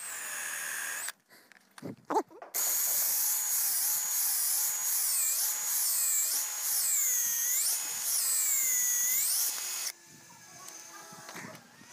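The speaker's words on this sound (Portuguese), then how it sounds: "uma broca de 1 um quarto para o prego não rachar a peça de frechal na parte de baixo" Power drill boring a 1/4-inch bit into a wooden wall plate, a loud continuous whining drill run with rising and falling pitch after a few short bumps, then cutting off to quieter room noise.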